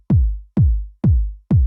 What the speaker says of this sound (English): So we have a kick and that sounds like this.